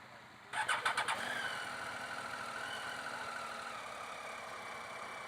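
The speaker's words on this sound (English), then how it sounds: "let's try starting it again" A Triumph Tiger 800 XCx motorcycle engine cranks with a few rapid stuttering pulses, catches, and settles into a steady idle that carries on evenly.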